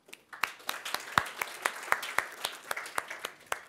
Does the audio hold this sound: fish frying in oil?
no